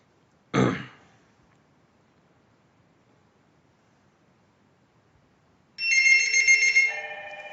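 An incoming call on a DINSTAR IP PBX ring group sets a desk phone ringing with a bright electronic warble that starts late and continues steadily, preceded by an isolated thump or throat-clear near the start.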